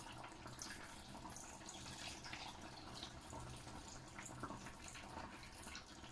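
Wine pouring steadily into a pan while making Bolognese, a continuous soft splashing and trickling, quiet and close.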